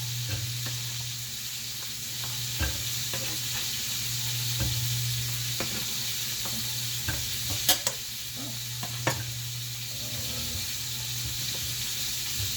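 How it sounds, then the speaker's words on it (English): Potatoes dropped into a hot pot for zuppa toscana, a continuous close sizzle broken by scattered thuds and clatters as pieces land and get stirred, with a low steady hum underneath. "I'm gonna take these and put them in the pot"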